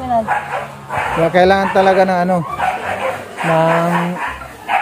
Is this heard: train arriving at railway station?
no